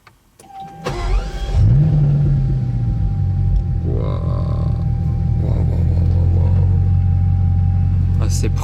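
A Bugatti Chiron engine starting up with a sharp whine and cranking burst, then settling into a loud, deep, steady idle rumble that swells slightly, with a faint voice briefly heard.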